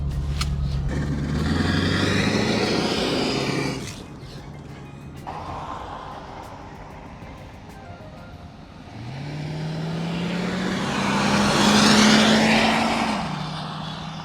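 A 1968 Ford Mustang convertible pulls away, its engine note rising and falling as it accelerates off, then returns for a louder revving pass that swells and fades, with some background noise between.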